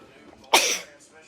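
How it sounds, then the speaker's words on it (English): A single loud, sharp sneeze from a person, a sudden burst that trails off within a fraction of a second, with faint room noise before and after. "She makes me sneeze."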